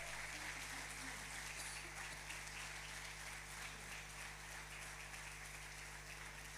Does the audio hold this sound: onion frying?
no